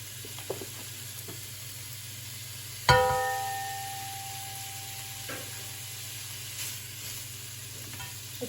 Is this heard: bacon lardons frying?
yes